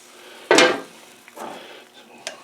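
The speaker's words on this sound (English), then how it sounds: "Pull the lid off of here." A lid pulled off a pot of loaded potato soup: one loud close clatter of metal, followed by a softer scrape and a light clink.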